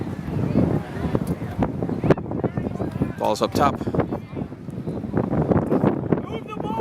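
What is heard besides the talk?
wind blowing on microphone outdoors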